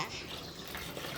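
Water splashing as toy Hot Wheels cars are washed, a soft continuous running and sloshing of dirty water, faint and close, with no clear talking.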